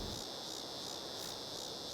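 Cicadas from the Critters mod in Farming Simulator 22 buzz in a steady, dense high-pitched drone with a gently pulsing rhythm, loud and continuous with no voices.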